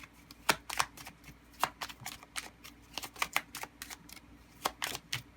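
Fortune cards are handled and drawn from a deck, producing a quick irregular series of close, crisp flicks and shuffling snaps, quiet overall with no talk.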